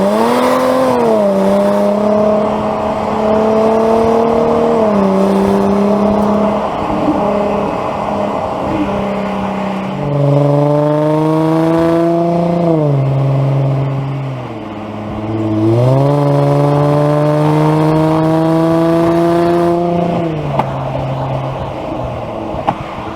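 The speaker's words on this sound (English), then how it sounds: "it does have a very, very nice exhaust." A 2018 Jaguar F-PACE S drives with a steady engine and exhaust note that rises and falls through several gear changes, loud and close throughout with no talking.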